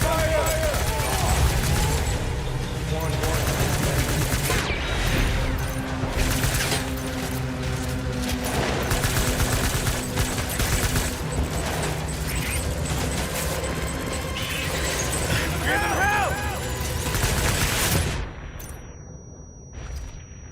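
Heavy gunfire rattles in the video game Death Stranding, loud, dense and sustained bursts layered over explosions and mechanical clatter, with a voice briefly heard before the firing cuts off into near silence at the end.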